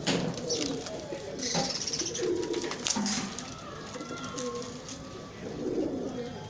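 Golden Prince and Imam Din pigeons coo repeatedly at close range, soft throaty rolling calls overlapping in an uneven rhythm with a few faint chirps.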